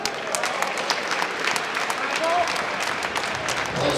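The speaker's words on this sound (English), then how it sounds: "Once again, release some applause over Andrea Marco." An audience at a Lavazza corporate event gives steady, full applause that runs continuously throughout, with a voice faintly audible over it.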